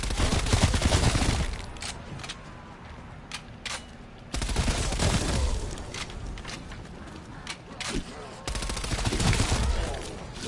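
SMG fire in a video game, loud rapid bursts in several stretches separated by quieter gaps with a few isolated shots and clatter.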